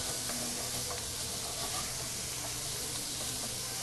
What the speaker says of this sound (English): Now, we're going to fry these guys on a medium heat.